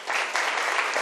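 A hall audience claps loudly and continuously for a sub-junior singing competition winner, a dense wash of applause with no pause.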